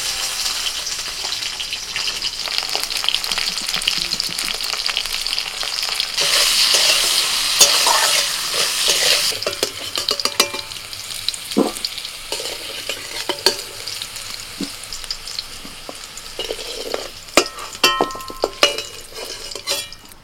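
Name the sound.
potatoes frying in oil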